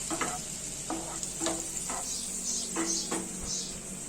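Paneer fries in melting butter in a pan, giving a steady close sizzle broken by repeated scraping stirs and light clinks of a utensil against the pan.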